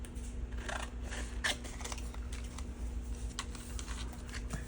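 Scissors snipping paper apart for a folded paper folio, a series of short, crisp close-up cuts at an irregular pace over a low steady hum.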